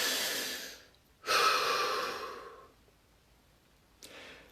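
A person takes slow, audible deep breaths close by: a long inhale, then a stronger drawn-out breath that fades, followed by a shorter one, with no talking.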